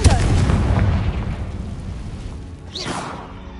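A Confringo fire spell bursts in Hogwarts Legacy, opening with a loud, booming blast that rumbles and fades, followed by a rising whoosh near the end.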